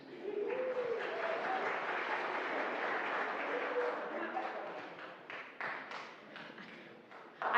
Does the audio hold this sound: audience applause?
yes